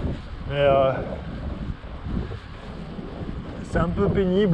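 Wind buffets the camera microphone while a fixed-gear bike rides along a road, a steady low rumble with gusts throughout, and someone talks over it at the start and end.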